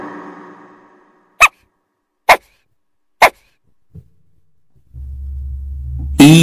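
Three sharp, loud dog barks spaced about a second apart, with a low hum before and after and a faint thump between.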